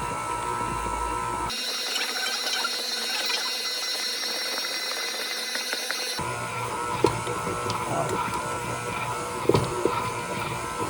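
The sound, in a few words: stand mixer with dough hook kneading Liège waffle dough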